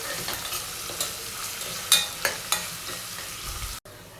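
Chana dal, onion and curry leaves fry in hot oil for an Arabic-style majboos, a close sizzle broken by several sharp spatula scrapes and stirs before it cuts off abruptly.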